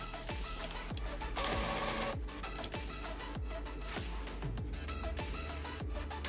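A Brother DCP-J125 inkjet printer with a clogged, rusty print head runs its cleaning cycle: repeated mechanical clicks and ticks with whirring motor bursts in an irregular rhythm, close and alone.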